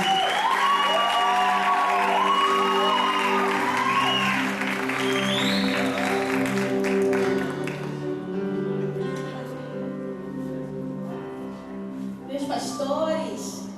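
Applause from a church congregation at a live youth worship service, loud and sustained for several seconds over tonal music, thinning out in the second half while the music carries on.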